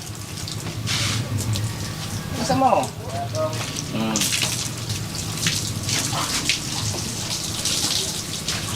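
Water runs continuously from a hose or tap at a shelter, a rushing, splashing wash with a few louder gushes. People talk briefly over it.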